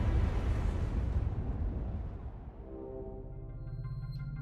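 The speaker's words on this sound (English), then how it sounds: "Just an explosion somewhere." A big explosion in the video game Astral Chain: a loud, broad rumbling blast that slowly decays over several seconds into a lower, droning tail, with no talk over it.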